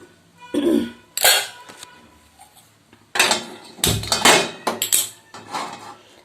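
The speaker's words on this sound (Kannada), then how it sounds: "ಇವಾಗ ಒಗ್ಗರಣೆಗೆ ಒಂದು ಬಾಣಲೆಯನ್ನು ಕಾಯಲಿಕ್ಕೆ ಇಡ್ತಾ ಇದ್ದೀನಿ" A frying pan being set down on a home kitchen stove for tempering, with a few sharp metallic clanks and scrapes of cookware, close and fairly loud, separated by quiet gaps.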